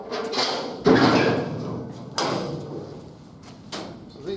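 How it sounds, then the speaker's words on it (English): Rear doors of a dump trailer swung open, giving a loud metallic clunk near one second, another bang around two seconds and a softer knock near the end, all close by. "So these doors just open, and then this latch pulls up."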